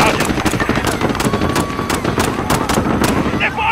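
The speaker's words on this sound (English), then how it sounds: "They're firing on civilians!" Rapid automatic gunfire in Call of Duty: Modern Warfare during a civilian street firefight, loud repeated bursts of shots over a dense battle din, with shouting voices mixed in.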